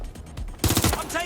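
Video-game gunfire in Watch Dogs: Legion, a sudden close burst of rapid shots following a quieter stretch of faint pops, loud and sharp with no talking.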